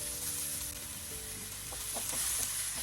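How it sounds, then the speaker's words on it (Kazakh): Onions frying in hot sunflower or olive oil in a pan give a steady, close sizzle with faint crackles and a few light stirring scrapes, and no one speaks. "Үстіне азғандай мөлшерде күнбағыс немесе зәйтүн майын құйып, қыздырып, пиязымызды салып қуырамыз."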